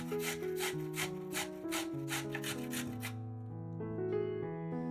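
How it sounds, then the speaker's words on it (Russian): Quick rasping strokes of a carrot on a coarse grater, repeating rhythmically for about three seconds under steady background music. "Одну морковь трем на крупной терке."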